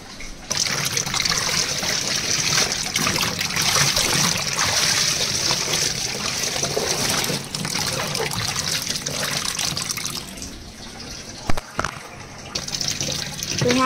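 Water left over from washing clothes splashes and trickles steadily at close range, a continuous running flow with a few brief knocks near the end.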